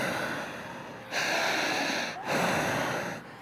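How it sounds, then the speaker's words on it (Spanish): A person takes long, deep breaths on request, with two drawn-out breaths of airy rushing heard close to the microphone, separated by brief pauses and with no talking. "Siga respirando más larga"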